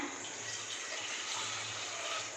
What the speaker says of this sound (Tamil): இப்போ வந்து இதில் ஒரு சொம்பு தண்ணி வந்து நான் ஆட் பண்ணிக்கிறேன்